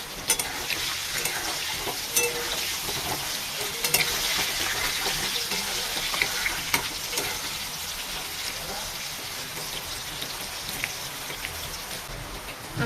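Potatoes seasoned with salt and turmeric fry in oil for khichuri, giving a steady, dense crackling sizzle with scattered pops that runs the whole time at a moderate, even level.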